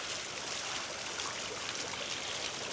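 Steady, broadband rush of water splashing in an illuminated fountain on the grounds of the Ai-Danil sanatorium in Yalta, Crimea, continuous and fairly close with no voices.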